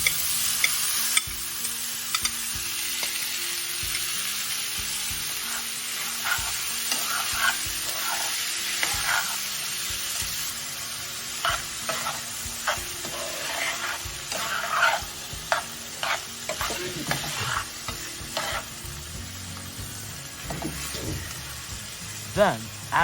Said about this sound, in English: Add the leftover ground beef and use a spoon to break it up into small pieces